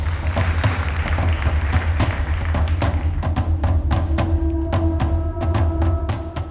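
Studio audience applause on the Turkish family game show Aileler Yarışıyor: dense, steady clapping fills the whole stretch, with scattered thumps and taps standing out in the second half.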